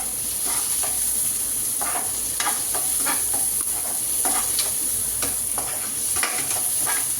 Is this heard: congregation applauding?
no